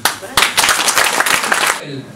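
An audience at a campaign launch speech breaks into brisk, loud clapping for under two seconds, with voices mixed in before it cuts off.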